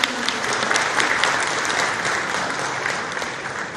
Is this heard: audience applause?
yes